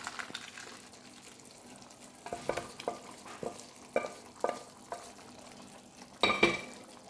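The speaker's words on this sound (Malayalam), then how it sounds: "ഇനി നമുക്ക് ഒരു 3-4 പീസ് വെണ്ടയ്ക്ക അരിഞ്ഞത് കൂടി ഇതിലിട്ട് വഴറ്റാം" Chopped okra being sautéed into a sambar mix in a pan, with a low steady sizzle broken by repeated spoon-stirring scrapes and a louder clatter near the end.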